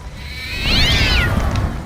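A cat lets out a single clear meow at close range, rising and then falling in pitch, over a low indoor rumble with no talking.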